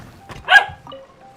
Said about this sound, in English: Don't bark at Pepper.